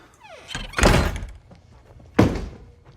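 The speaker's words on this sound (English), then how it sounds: "Shut the front door." A front door swings and shuts with a heavy thunk, followed by a second sharp slam-like thud a moment later, both loud and close, with no speech.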